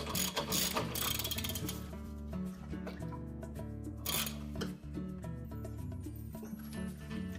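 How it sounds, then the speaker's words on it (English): A ratchet and socket tighten a nut on the rotor of an LG washing machine, giving rapid clicking ratchet strokes in repeated bursts, close and fairly loud, with no talking. "Then using our ratchet and socket, we'll tighten that nut."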